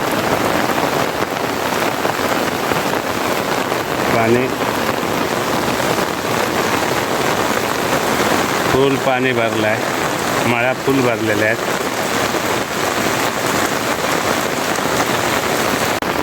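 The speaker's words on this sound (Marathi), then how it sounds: "आजचा हा पाऊस एवढा मोठा पाऊस आहे" Heavy monsoon rain pours down in Konkan, a dense, loud, unbroken hiss of drops on surfaces throughout, with someone speaking briefly over it a few times.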